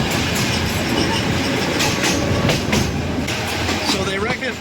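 A train rolls through a Bangkok city-centre road crossing, wheels clattering loudly and steadily up close with brief metallic squeals near the end, while voices talk underneath.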